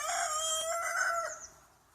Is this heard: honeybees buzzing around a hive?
no